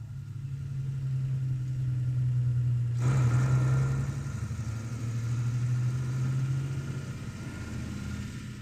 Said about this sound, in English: A heavy-duty Fawn 4x2 Zugmaschine tows the all-important liquid oxygen fuel container.